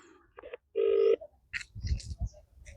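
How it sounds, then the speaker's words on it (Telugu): A few short dialing tones followed by a telephone ring tone and brief electronic beeps, close and clear, with low rumbles in between. "కానీ మనం బొమ్మ కళ్యాణ్కే సార్ ఫోన్ చేద్దాం, ఈ ఏరియా కార్పొరేటర్కే ఫోన్ చేద్దాం"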